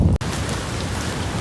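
Heavy rain pouring steadily during a hike up Kabaragala mountain, a dense, continuous hiss close to the listener after a brief knock at the start.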